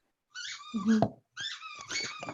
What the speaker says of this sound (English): Sorry, my dog has his toy behind me.